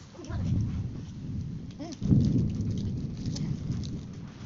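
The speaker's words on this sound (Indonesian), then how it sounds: "Hujan guys, hujan." Steady rain falls in a broad, even hiss through the whole stretch, with a brief voice or two faintly mixed in.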